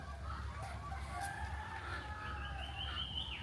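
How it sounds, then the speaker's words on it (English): Chickens cluck and a rooster crows faintly among other birds in a rural outdoor setting in Bali, a steady mix of calls over constant background noise with no talking. "You can hear the sounds of the chickens and the birds in the background"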